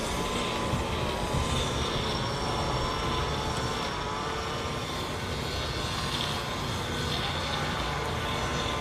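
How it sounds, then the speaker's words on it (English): A jet airliner roars near runway 05L at Manchester Airport, a loud, steady, broadband engine rush that holds evenly throughout with no talking. "we're going to be getting some wonky aircraft sounds for the next few minutes"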